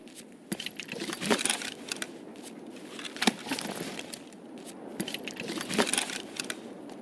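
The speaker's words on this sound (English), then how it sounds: "the guns rattling and clicking as you move around" Guns rattling and clicking on a moving player in Escape from Tarkov: a steady stream of small metallic clinks and jangles, with sharper clacks near 0.5, 3.3 and 5 seconds, fairly faint and close, no talk.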